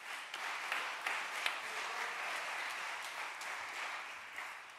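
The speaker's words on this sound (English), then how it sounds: "Big round of applause for Tom Lowry." An audience at a local pickleball gathering applauds steadily for several seconds, a dense wash of clapping heard from a moderate distance at low level, with no voices standing out.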